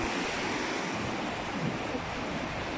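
Moderate ocean waves at Bagasbas Beach wash in a continuous, even hiss of surf with light wind noise, heard from the shore at a steady, moderate level with no talking.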